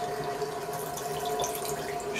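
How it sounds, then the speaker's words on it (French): Water runs steadily from the hand-wash tap on top of a Japanese toilet tank as the tank refills, a continuous trickle with faint dripping and no talking. "pour remplir le réservoir, l'eau passe par le robinet"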